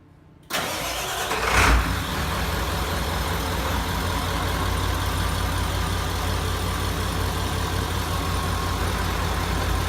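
A Ford OBS 7.3 Powerstroke diesel truck engine cranks briefly and fires up close by, then settles into a loud, steady diesel idle.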